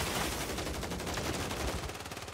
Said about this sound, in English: I'm getting sniped from somewhere